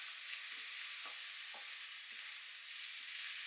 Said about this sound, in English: Just give that a little turn, make sure the garlic's cooking away